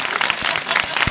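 An audience at an education talk breaks into steady, lively applause, many hands clapping together at close range.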